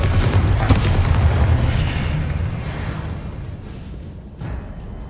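Confringo blasting spell in the Hogwarts Legacy video game detonates as a loud, deep boom that rolls into a long rumbling tail and slowly fades, with a faint burst near the end.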